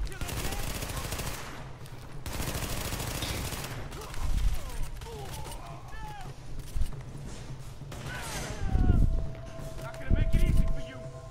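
Bursts of gunfire from The Division 2 rattle in repeated volleys, loud and close, while a person talks over the shooting.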